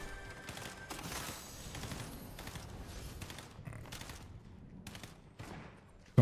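Rapid gunfire crackles in Fortnite as bursts of sharp, close shots come in uneven clusters, some overlapping, with short pauses between volleys.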